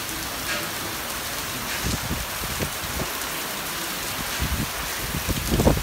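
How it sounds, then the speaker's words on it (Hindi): Heavy rain falls in Mumbai during Cyclone Biparjoy, a constant close wash of drops with scattered louder splashes and patters, building slightly toward the end, with no speech. "रहमत बरस रही है, अभी"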